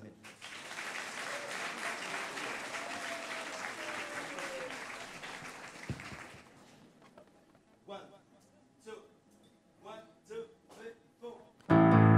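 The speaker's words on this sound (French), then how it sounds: "Et je vais vous demander de vous applaudir maintenant." Concert crowd in a full hall at a Haitian music event applauding for about six seconds with voices over it, then fading to quieter, sparse sounds and a sudden loud burst at the end.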